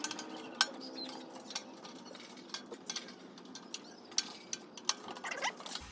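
A screwdriver turning screws while a new BBQ is assembled, a run of small clicking ratchet-like ticks and metallic taps at close range, quiet and irregular.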